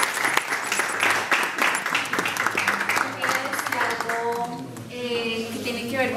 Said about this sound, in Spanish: Yo les pediría un aplauso